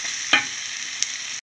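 A garam masala paste of coriander seeds, cardamom, cinnamon and cloves fries in a chicken curry with a steady, close hiss, broken by a couple of brief stirring scrapes and a sudden cut near the end.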